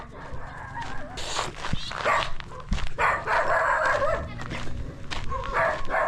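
Several dogs bark and yip repeatedly along a barangay street walk, close and loud, with overlapping bursts over a busy outdoor background.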